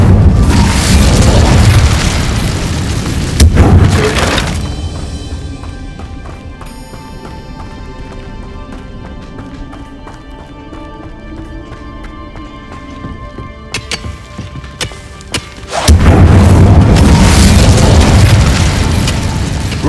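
A fire spell cast in a Hogwarts Legacy battle: loud bursts and booms at the start and again at the end, with a quieter stretch of faint tonal game sound between them.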